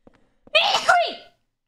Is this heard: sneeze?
yes